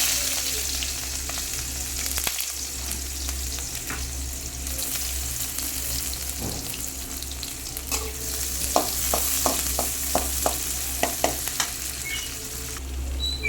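Sliced onions hitting smoking hot oil set up a loud, continuous close sizzle and crackle, with stirring clicks and a few scraping taps along the way.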